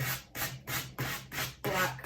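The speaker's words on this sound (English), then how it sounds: "I do like to sand the edges of the paper" Rhythmic rasping strokes, about seven back-and-forth rubs of a sanding block against the edge of paper, close and fairly quiet with no talking.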